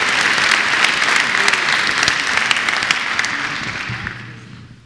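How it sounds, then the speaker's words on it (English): An audience applauds at the 2013 Ocean Exchange Industry Excellence Award ceremony: loud, dense clapping from a sizeable crowd that continues steadily and then tapers off toward the end. "One more round of applause"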